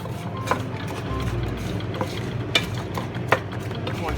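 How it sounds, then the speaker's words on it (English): Food in a pot is stirred with a utensil, soft scrapes and occasional light knocks over a low steady background rumble, close and without talking. "let's Give this a stir"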